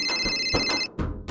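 A telephone rings loudly and close by with rapid trilling bell bursts, then breaks off briefly before starting again.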